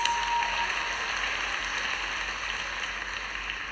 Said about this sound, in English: Audience, huge round of applause.